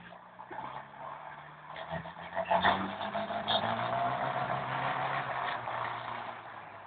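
A rough, low tractor motor chugs and rattles steadily nearby, rising briefly in loudness partway through, with no voices heard.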